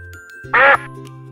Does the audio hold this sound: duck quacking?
yes